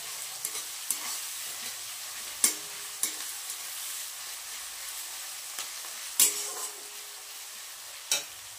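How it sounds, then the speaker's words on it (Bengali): Onions sizzle steadily in a hot pan, a close, continuous frying hiss. Occasional sharp spatters and utensil taps break through it. "পেঁয়াজটা ভাজা হতে থাক"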